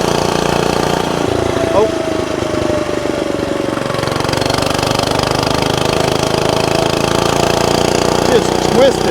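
A small gas-powered mini bike engine runs steadily and close, a continuous buzzing drone that shifts slightly in pitch, with a brief voice over it.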